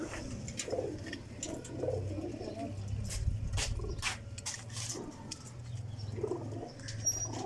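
Pigeons cooing on a rooftop loft in Sialkot, soft repeated low coos with flapping wings, while someone talks over them.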